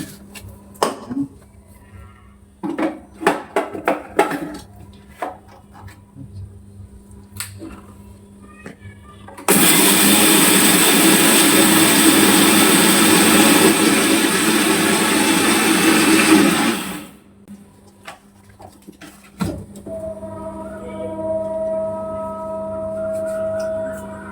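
A blender grinds eggshells into powder for fertilizer, a loud, steady whirring roar lasting about seven seconds, with quieter clatter and scattered small sounds before and after.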